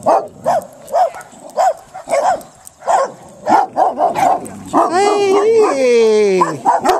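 Dogs at a campsite bark in a steady run of loud, close, evenly spaced woofs, then break into high whining yelps and whimpers, with people speaking in between.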